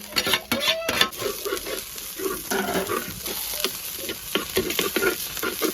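Goat head fry sautéing in a pan sizzles steadily while a utensil stirs and scrapes through it, with occasional clinks against the pan, close and moderately loud.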